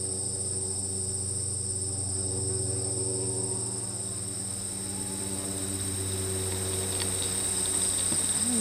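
Native bees work inside their nest while unloading pollen, making a steady close buzzing drone with layered hum tones that holds throughout, alone without voices.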